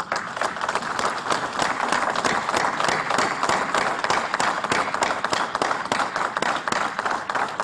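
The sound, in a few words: audience clapping for presiding officers at a ceremony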